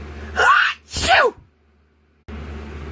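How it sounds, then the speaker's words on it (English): A cartoon cat lets out two loud, close sneezes in quick succession, an inhaled buildup then a sharp burst, followed by a moment of silence before faint background resumes. "When you sneeze it to your elbow like this."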